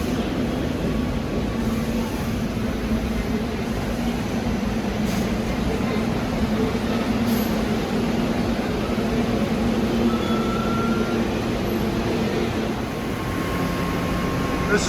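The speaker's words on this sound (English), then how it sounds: "here's 9592 arriving from Thorndale" A SEPTA push-pull commuter train, number 9592 from Thorndale, rolls into the underground Suburban Station with a steady, loud rumble and hum of wheels and motors, with faint squeals here and there and no pause.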